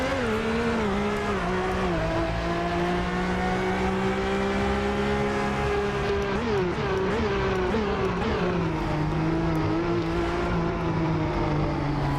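A Ferrari F50 engine screams at full throttle in Assetto Corsa, a loud sustained high-pitched wail whose pitch climbs and dips slightly through gear holds, steady and close, with no voices.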